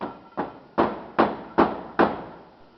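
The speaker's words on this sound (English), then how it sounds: "get a rubber hammer and hammer it in" A rubber hammer strikes a greased mud saver valve from a drilling tool, driving it into place with six firm, evenly spaced blows about every 0.4 seconds, close and distinct with short decays.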